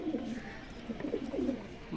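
Pigeons on their stands coo in low, rolling bursts at close range, several calls overlapping across a couple of seconds with light background hiss.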